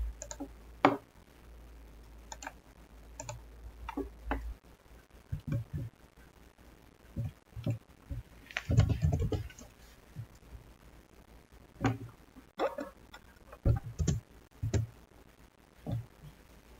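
Scattered clicks and short bursts of typing on a computer keyboard as a command is entered to stop an Apache server running in Docker, close and fairly faint, irregular taps with a denser flurry midway.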